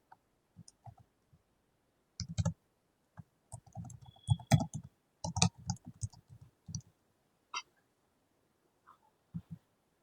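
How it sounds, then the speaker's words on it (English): Typing on a computer keyboard while coding: irregular clusters of close, crisp key clicks with pauses between bursts, alone without talk. "So here I'm typing"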